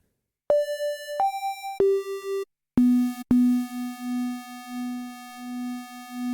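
Synth lead patch with added Juno 106 noise, pitched up: a few clean sustained tones stepping between pitches, then a lower steady held note with a faint airy hiss beneath, moderately loud and alone.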